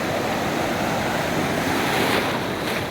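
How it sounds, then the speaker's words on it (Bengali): Steady roar of breaking ocean waves at Cox's Bazar beach, close and loud, with wind noise over the microphone and no talking. "এই যে ঢেউ,"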